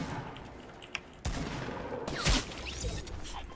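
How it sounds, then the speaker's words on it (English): Gunfire in the video game Fortnite Battle Royale: several bursts and volleys of shots, with a louder cluster near the middle, over steady game ambience. "they're shooting at us"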